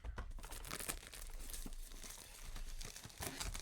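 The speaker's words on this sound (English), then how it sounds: "So, let's get this plastic off." Plastic wrap is peeled and torn off an Evercade VS-R retro gaming console box, with loud close crinkling and crackling in irregular bursts and sharp tearing snaps, no voices.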